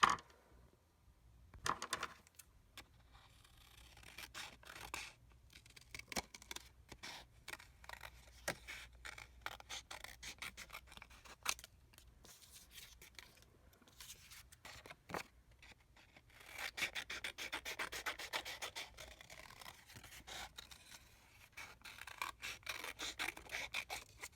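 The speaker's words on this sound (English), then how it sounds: "And then you cut them both out." Scissors cutting paper during a craft demo, cutting out two joined paper animal bodies: a long series of soft, uneven snips and rasping rubs, close and faint, with no talk.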